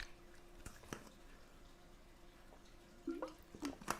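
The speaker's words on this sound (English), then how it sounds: "Here's some good water drops." Sparse, faint water drops from the Angeldust video game, a few soft plinks and splashes clustered near the end over a quiet background.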